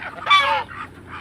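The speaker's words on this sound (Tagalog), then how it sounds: "sa ating mga bibi, pabo at saka gansa" Farm ducks, turkeys and geese calling together, a burst of loud nasal honks in the middle flanked by softer squawks, close by.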